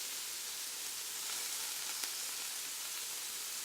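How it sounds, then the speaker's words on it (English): Turkey pieces with fresh ginger sear in a hot pan for a slow cooker stew, giving a steady, even sizzle and hiss throughout with no voices. "Once the turkey hits the pan, you're going to start to see that nice golden brown color"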